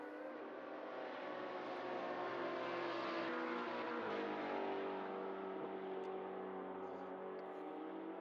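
Ferrari and Porsche race cars accelerate out of a corner in a Le Mans exhibition race, the Porsche spinning its tyres, giving a sustained engine roar that swells slightly and sounds fairly faint and distant.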